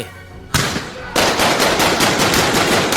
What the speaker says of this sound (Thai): เสียงปืนดังขึ้น ทั้งสองฝ่ายสาดกระสุนสวนกันไปมา